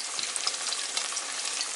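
Small sausage meatballs cooking in a pot for a potato soup, a dense, hissing sizzle with fine crackles, steady and close for a brief moment with no talking.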